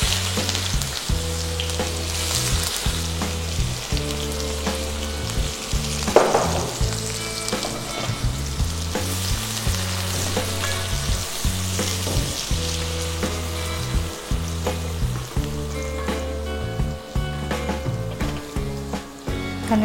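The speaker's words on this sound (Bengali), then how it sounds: "গরম তেলে আগে পেঁয়াজ কুচি দিতে হবে।" Chopped onion frying in hot oil, a continuous close sizzle broken by rhythmic scraping and stirring strokes throughout, loud and steady with no talk.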